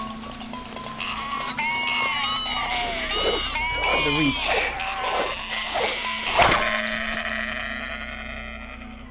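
Assassin sheep in the game Northern Journey bleat repeatedly over a steady droning background, with a louder burst near the end and a person talking at times.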